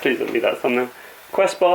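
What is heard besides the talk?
None of the usual background noises is heard.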